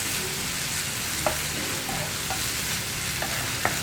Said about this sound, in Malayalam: നമുക്കിതൊന്ന് നന്നായിട്ട് ഇളക്കി മിക്സ് ചെയ്യാം